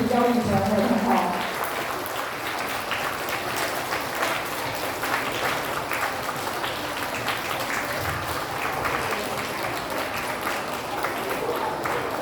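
An audience at a lower-grade school closing and prize-giving ceremony claps for students receiving a Chinese subject excellence award. The applause is steady and moderately loud, with brief voices near the start.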